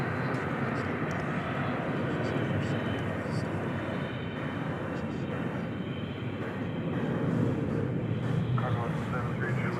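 An American Airlines Airbus A321 arriving at DFW airport at night makes a steady, broad jet roar that fills the whole stretch. Voices talk faintly beneath the engine noise.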